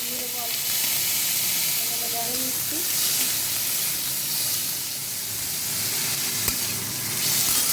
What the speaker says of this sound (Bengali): চিংড়ি মাছটা ভাজা ভাজা করছি গাইস, দেখতেই পাচ্ছ